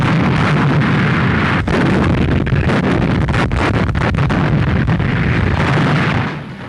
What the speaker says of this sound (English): Now the 60-pounders come into action, and you'll notice that the guns are well camouflaged.